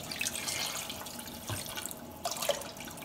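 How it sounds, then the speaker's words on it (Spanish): Water from a jug splashes steadily into a cooking pot while shrimp broth is being made, a close continuous pouring gurgle with a couple of brief clinks and no talking. "Aquí tengo una jarra de agua. Le vamos a echar agua."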